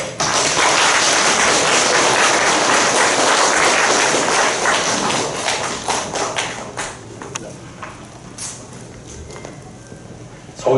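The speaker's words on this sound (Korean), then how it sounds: "박수." An audience at a Korean Christian leaders' forum claps for a guest lecturer being introduced, a dense burst of applause that thins into scattered claps and fades out after several seconds.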